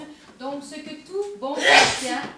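Someone talking in French is interrupted by a sharp, loud sneeze near the end, a burst of breathy noise following his speech.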